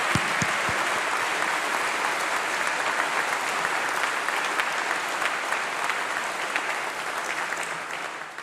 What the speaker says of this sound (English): So let's give a big round of applause to our international students.